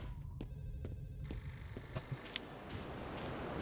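Telephone in the horror video game Underhell ringing with repeated bright electronic trills over a dense low ambient rumble, fairly faint and alone.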